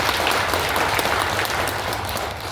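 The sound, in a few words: welcoming applause before a lecture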